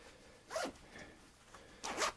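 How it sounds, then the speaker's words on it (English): Two quick pulls on a lightweight Thinsulate blanket's zipper, a short rasping zip followed by a brief pause and a second, louder zip, close up and otherwise quiet. "And now let's see the zipper"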